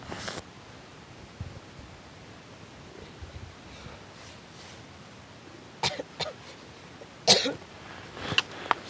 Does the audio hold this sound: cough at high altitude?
yes